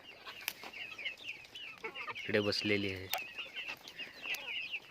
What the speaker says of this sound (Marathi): ही बघा इकडे ही कोंबडी आहे